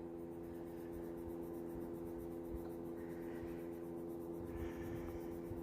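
A colored pencil scribbles rapidly back and forth on paper, a close, soft, steady scratching that repeats in even strokes over a faint background hum.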